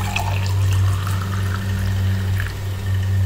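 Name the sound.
pouring strained drink into a glass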